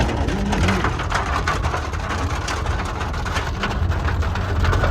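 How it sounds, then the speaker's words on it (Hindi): Large hailstones pelt down heavily in a dense, continuous clatter of sharp impacts, with a low rumbling drone underneath. "ये बारिश नहीं, ओले पड़ रखे हैं"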